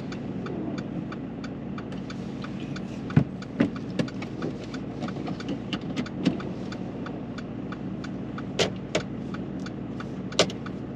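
A car's engine idles and hums as it pulls away during a driving test, a low steady drone heard from inside the cabin with scattered clicks and small knocks.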